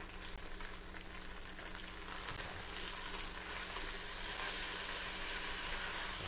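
Hor fun rice noodles being stir-fried in a wok give off a steady, dense sizzle that holds at an even loudness throughout, close up, with no talking.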